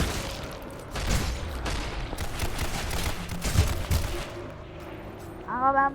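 Rapid bursts of gunfire rattle through a Roblox shooter game, dense volleys of crackling shots that fade after a few seconds, followed by a short tonal game chime near the end.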